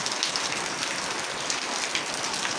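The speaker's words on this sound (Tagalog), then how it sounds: "naulan guys, naulan," Steady rain falls on a house with a damaged gutter, a dense, even hiss of drops close to the microphone throughout with no voices.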